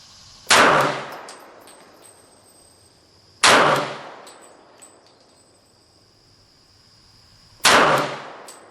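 Three sharp, loud pistol shots from a Sig P229 at a shooting range, spaced a few seconds apart, each a hard crack with a short ringing decay and no talk between them.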